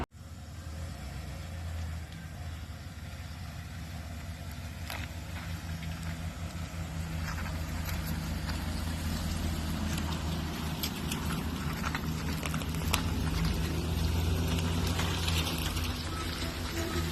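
A van drives down the road towing a square body 3/4 ton truck with a 400 engine on a trailer. It gives a steady low engine drone with road and tire rumble that swells slightly as speed builds, with no voices.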